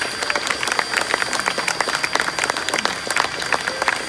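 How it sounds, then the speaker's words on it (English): Crowd applause at the unveiling of restored steam locomotive 3526, steady dense clapping from many hands, continuous and fairly close, with no talk over it. "How about a big round of applause?"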